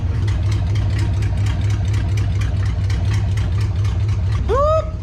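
A 1959 International B100 truck engine idles roughly with a choppy cam, a loud, close, lopey rumble pulsing in an uneven rhythm throughout, with a short whooping voice near the end.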